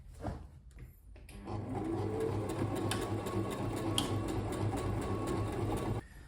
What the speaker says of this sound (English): the first thing I'm going to sew is the back of neck